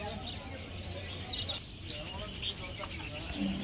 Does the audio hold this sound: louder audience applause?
no